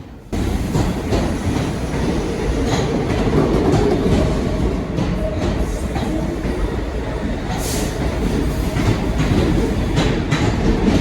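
A New York subway Q train at Prospect Park rumbles loudly and steadily nearby, wheels clattering over the rails with a brief high squeal partway through.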